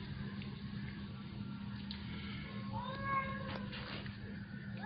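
A couple of street cats meowing, a few short drawn-out cries over a steady low hum, faint and somewhat distant.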